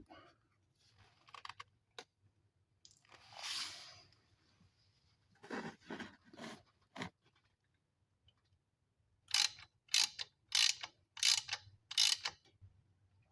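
Hand ratchet driving bolts into a motor mount, bursts of quick clicking strokes with pauses between, close and clear in a quiet space, no talking.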